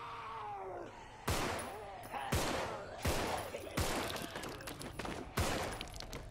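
Gunfire in the Biotech Contagion video game: about six loud, sharp shots spaced roughly a second apart, each with a short ringing tail, over a groaning background.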